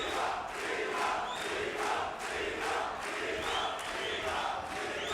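A boxing arena crowd in full voice during a fight, a dense sustained roar of cheering and shouting with rhythmic swells, loud and continuous with no clear speech above it.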